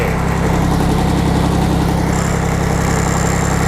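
A Yanmar F14D tractor engine imported from Japan runs loud and close with a steady, fast diesel chug, and a faint high whine joins partway through.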